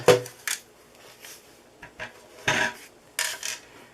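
Cardstock is scored on a score board in a few separate short scraping strokes with quiet pauses between them, close and crisp.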